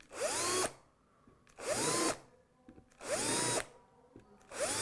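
An electric drill countersinks holes in a wooden guitar body, four short whirring bursts spaced about a second apart, each spinning up with a rising whine and cutting off cleanly, close and alone.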